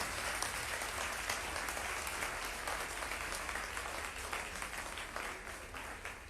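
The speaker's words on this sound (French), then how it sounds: "Acclamez pour Pasteur Amish." A church congregation applauds in a steady, dense wash of clapping that carries on throughout without a break and fades slightly at the end.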